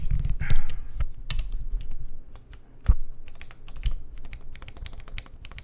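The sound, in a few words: typing on Dark Ex Ecliptica mechanical keyboard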